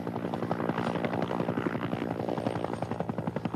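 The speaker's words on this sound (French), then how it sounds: "cet hélicoptère ravitaille un centre de distribution près d'un petit bourg à 60 km" A supply helicopter flies over Eritrea, its rotor producing a loud, steady rapid thumping with an underlying engine drone throughout, heard without any voices.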